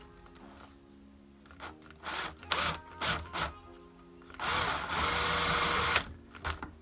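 Electric screwdriver driving screws during gearbox reassembly, whirring in short bursts and one longer steady run, with ratcheting clicks between.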